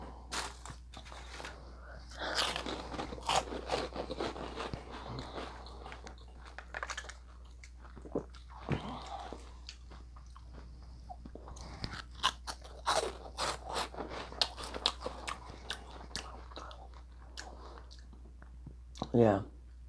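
Loud close-up crunching and chewing of cheesy potato chips, repeated bites and chews with some scraping and crinkling, brief pauses between mouthfuls and a sharp crunch near the end.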